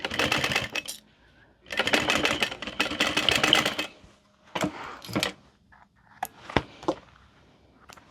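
A sewing machine stitches a fabric handbag in two long, close runs of rapid mechanical whirring, then gives several short bursts and knocks separated by quiet pauses.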